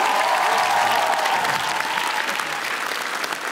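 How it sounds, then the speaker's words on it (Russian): Audience applause at a Russian comedy roast show, a dense, loud burst of clapping from a large crowd that slowly thins toward the end. "давайте ему похлопаем"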